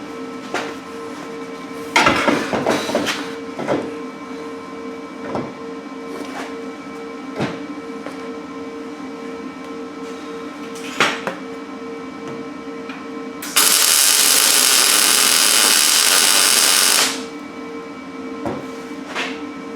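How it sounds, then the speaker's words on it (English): Tack welding a coilover mount tower into place: mostly faint workshop clatter with scattered ticks, then a loud, steady burst of bright buzzing hiss for a few seconds near the end. "Now we're gonna go and slide the tower into place and then tack it in there."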